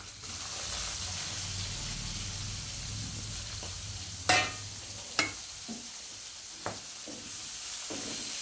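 Chopped onion and slit green chilies fry in a pan with a steady, moderate sizzle, punctuated by a handful of sharp spatula taps and scrapes in the second half.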